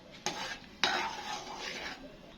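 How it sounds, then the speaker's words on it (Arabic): Tomatoes tipped into a hot pan for a home potato dish: two sharp splashy hits followed by a steady sizzle and spoon stirring, close and fairly loud, with no talking. "هننزل بالطماطم بقى بتاعتنا"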